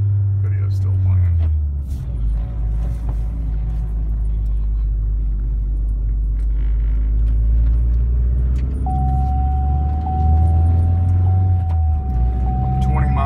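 A car pulling forward and accelerating at low speed, with a steady engine rumble and road noise close inside the cabin and a faint tone running through it; a person talks over the driving.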